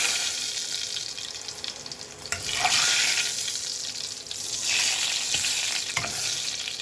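Curry leaves sizzle loudly in hot oil for a tempering, with a bright, crackling hiss that swells and fades as it is poured over chicken hundi. The frying noise is close and steady, and no one speaks.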